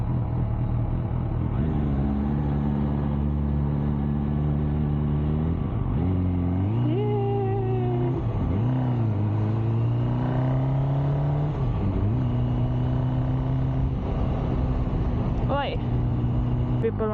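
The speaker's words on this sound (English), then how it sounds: "I'm really stuck in the traffic" Road traffic surrounds a motorcycle in Tallinn, with a steady engine rumble that revs up and down through several rising and falling pitch sweeps and a brief whine of a passing vehicle near the end.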